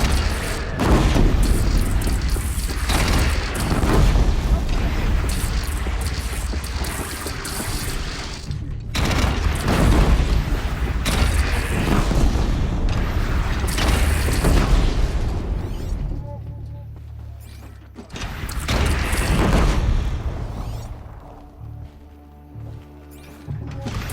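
Cannon fire and explosions in the video game Horizon Zero Dawn, dense booming blasts and bursts of gunfire rolling almost continuously, loud and close, with brief lulls before further heavy volleys.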